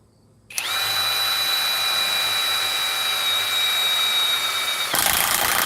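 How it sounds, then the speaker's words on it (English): An impact wrench starts up after a moment of quiet and runs at a steady high-pitched whine for several seconds, loud and close, with a slight change in tone at the end. "this is a heck of an impact wrench."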